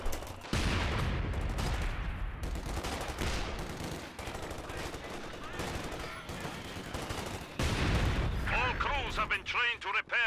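Mortar and artillery fire rumbles through a Company of Heroes 2 multiplayer battle as a dense, continuous barrage of heavy booms and rattling shots, with a voice briefly audible near the end.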